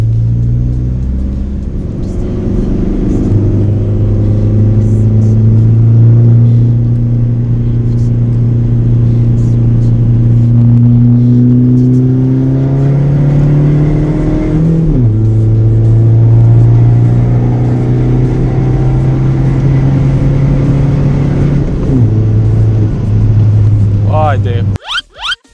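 A Skoda Fabia 1.9 TDI with a stage 2 tune accelerates hard through the gears, its loud diesel drone rising in pitch, dropping at each shift and climbing again, recorded from inside the car with someone talking over it.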